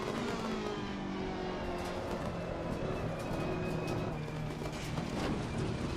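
GT3 race cars lapping Donington Park in a racing video game, a continuous loud engine drone with shifting pitch as another car passes close by.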